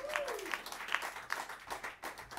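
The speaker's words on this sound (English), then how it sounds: "Live applause, I love it." Brief live audience applause at a jazz quartet performance, a short patter of clapping at moderate level with a vocal whoop near the start.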